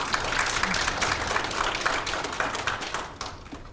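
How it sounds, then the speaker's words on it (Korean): An audience at an AI policy forum claps, a steady patter of many hands at moderate distance that thins out and fades toward the end. "박수 한 번 더 드려야 될 겁니다."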